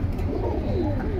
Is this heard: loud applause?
no